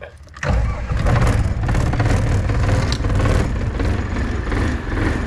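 A cold diesel mower engine cranks and catches after a glow-plug wait, then settles into a loud, steady idle that continues as it warms up.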